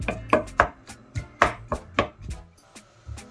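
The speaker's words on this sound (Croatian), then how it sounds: "možemo da isickamo biće, dvije tripice" A knife chops tripe on a cutting board for a classic tavern-style tripe soup, about a dozen sharp, close, distinct thuds in an uneven rhythm with short pauses between strikes.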